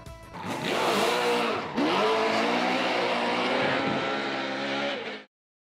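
A car engine in the video game Cyberpunk 2077 revs hard and climbs in pitch, dips briefly on a gear change, then roars up again before cutting off abruptly. It is loud and close, with no talking.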